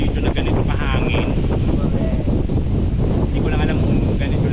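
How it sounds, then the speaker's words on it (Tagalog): Strong wind roars across the microphone at a scenic overlook, a loud, steady buffeting rush that lasts the whole stretch, with voices faint beneath it. "Hindi ko lang alam kung ganito lagi na malakas ang hangin."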